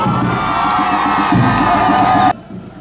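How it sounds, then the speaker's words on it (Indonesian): Loud crowd of supporters cheering and shouting at a government marching drill competition in Malang, a dense roar of voices that cuts off abruptly near the end. "Aplaus yang meriah untuk Sekretariat Daerah Kota Malang."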